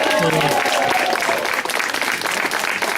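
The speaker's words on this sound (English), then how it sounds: "This is a major applause point for Colby." Loud, close applause fills the clip, dense clapping from a group, with a voice briefly audible at the start.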